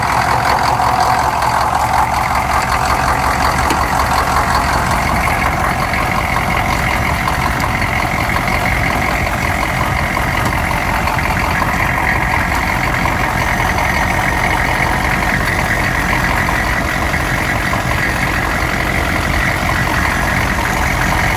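A 6.5 diesel engine in a Chevy Blazer idles steadily after cranking on a cold start, a loud, close, continuous rumble with a rough knocking texture and no talking.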